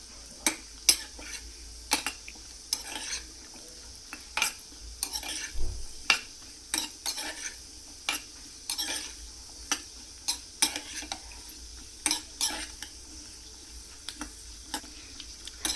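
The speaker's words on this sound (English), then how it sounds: "let's heat some ghee and oil for frying cashew nuts" A utensil scrapes and clicks against a pan at an irregular rhythm as cashew nuts fry in ghee and oil over low flame, with a faint, steady sizzle.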